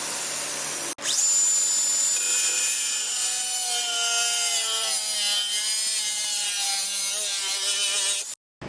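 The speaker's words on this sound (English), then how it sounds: "got some of this aluminum flat. I also got stainless steel washers, so I'm going to cut these out." A saw cuts through aluminum flat bar for a boat trolling motor install, a loud continuous rasping, whining bite that starts abruptly, grinds steadily for about seven seconds, then stops.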